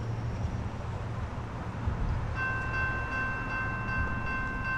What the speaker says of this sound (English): I can see that it's an intermodal train.